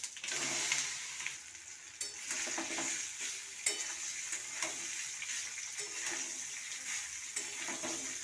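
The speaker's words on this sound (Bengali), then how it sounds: "চালতাটা দিয়ে কিছু সময় নাড়িয়ে নেবো চালতাটা তেলে" Pieces of elephant apple (chalta) stirred in hot oil seasoned with bay leaf and five-spice, a continuous bright sizzle with frequent spatula scrapes and knocks, close up and without speech.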